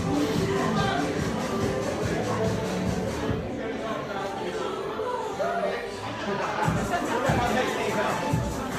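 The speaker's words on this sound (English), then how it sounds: "The crowd just starting to come in right now." A crowd arriving at a red carpet event fills the air with steady chatter and shuffling, a dense, close babble of many voices with no single speaker standing out.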